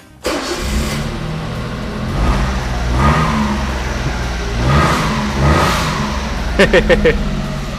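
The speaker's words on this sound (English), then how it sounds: "Such a funny little engine." A small Honda Beat PP1 kei car engine cranks and catches, then revs up and down several times in loud surges, ending with a few quick sharp blips.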